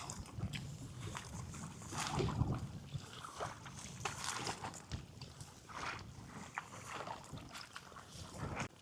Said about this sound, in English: We're currently paddling into the wind, but it's all right. It's quite choppy out here